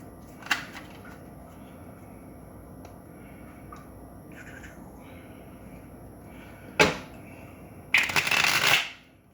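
Playing cards being shuffled in a few quick bursts, with a louder riffle near the end, otherwise quiet.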